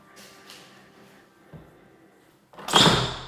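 An acoustic interior door in a newly finished cabin shuts with a muffled thump partway through, followed near the end by a loud, broad rush of sound.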